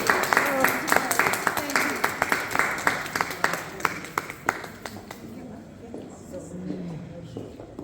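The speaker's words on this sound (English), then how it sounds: "Let's give her a round of applause." Applause at an awards ceremony held at Royal Horse Guards, a burst of claps that thins into scattered hand claps and fades after about five seconds.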